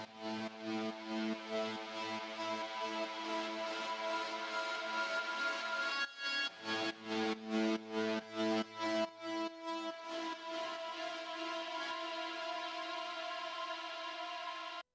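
Sustained ambient pad washed in Valhalla Supermassive reverb on the We Are Stardust preset swells steadily, then turns into a rapid pulsing, chopped rhythm before settling back into a long, shimmering, reverberant tail.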